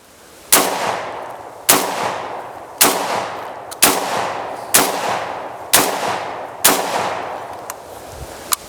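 Seven loud, sharp shotgun blasts ring out at an outdoor shooting range, spaced roughly a second apart, each followed by a short reverberant decay.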